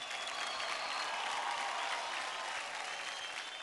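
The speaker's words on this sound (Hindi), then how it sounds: "जोरदार तालियां हो जाए स्वराली के स्पार्कलेस के लिए" Audience applause for Swarali's Sparklers on a televised kids' dance competition stage, a dense, steady wash of clapping that holds evenly throughout with no voices over it.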